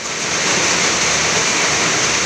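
Torrential rain pours outdoors in a loud, steady, hissing wash of water that swells slightly at first and then holds constant.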